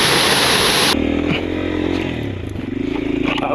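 A motorcycle engine revs and labors as it climbs a rough, remote mountain road toward the Cordillera, loud and close after a brief burst of wind noise, with clattering from the bumpy surface.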